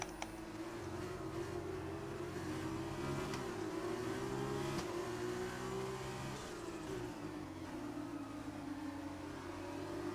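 Race cars in an F1-style video game on Xbox at the Brazilian GP, a faint, continuous engine whine rising and falling in pitch through braking and acceleration.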